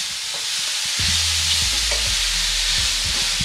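Garlic sizzles steadily in a hot pan while a utensil scrapes and stirs through it, a constant frying hiss with soft knocking strokes and no voices.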